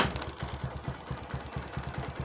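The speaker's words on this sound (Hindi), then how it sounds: "हमारी बाइक स्टार्ट हो चुकी है" Honda Twister motorcycle engine running at idle after a starting problem was fixed, a steady low putter of even rhythmic firing pulses heard close up with no speech.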